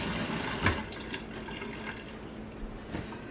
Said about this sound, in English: I'm going to run some cold water on my fingers.